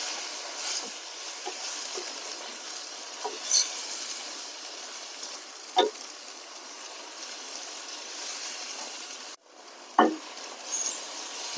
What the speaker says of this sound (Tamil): இப்போ நறுக்குன மஞ்சளை இப்போ கொட்டி இப்படி வதக்கியிருக்கோம்